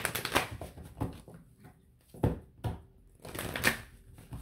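Tarot cards are shuffled in several quick bursts of papery riffling and slapping, close and moderately loud, separated by brief pauses.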